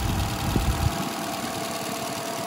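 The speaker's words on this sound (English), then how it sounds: "the engine's running, so I'll just pull around to the front for you" A 64-plate Ford Fiesta's engine idles close by, a steady mid-pitched hum with a low rumble at the start that settles into an even drone.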